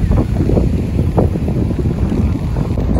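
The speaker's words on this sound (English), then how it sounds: "it's so freaking windy" Strong wind buffets the microphone at a Sicilian beach with clear water, a loud continuous low roar and rumble that stays steady throughout with no talking.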